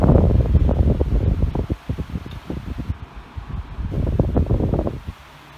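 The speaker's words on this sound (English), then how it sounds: "You can probably hear what I meant by all the rattling." Air King 16-inch table fan rattling, with a rapid, uneven clatter of loud bursts and brief lulls up close over a constant airy whoosh, heard alone.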